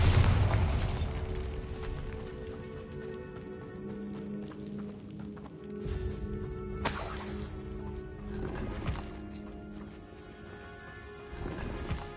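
The Bombarda explosion spell in Hogwarts Legacy goes off with a deep, heavy boom at the start, then fades into quieter game effects and ambience with a few lighter pops.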